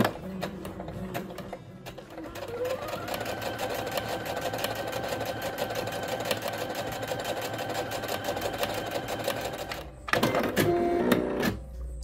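A Singer SE9185 straight-stitch sewing machine runs steadily, a rapid mechanical whirr and needle clatter close by for most of the stretch, starting and stopping without speech.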